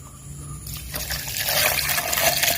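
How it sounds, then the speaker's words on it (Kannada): A glass of milk is poured into a mixer jar for a tender coconut milkshake, the stream starting after a quiet moment and running as a steady close splashing trickle. "ಇದಕ್ಕೆ 1 ಗ್ಲಾಸ್ ಹಾಲು ಹಾಕ್ತೀನಿ."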